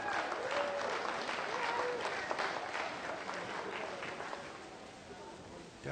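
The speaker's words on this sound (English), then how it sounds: "Give Henry a big round of applause." An audience applauds Henry at a magic show, a steady, full burst of clapping that lasts throughout and fades slightly toward the end.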